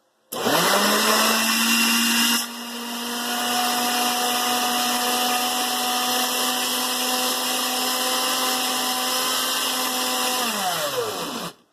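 A blender whirs loudly and steadily for about eleven seconds, shifting pitch once early on as it liquefies broth, then winds down.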